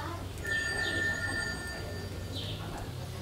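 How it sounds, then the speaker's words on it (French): An indoor telephone rings with a single electronic trill of about two seconds over a low background hum. "Ah, ce téléphone!"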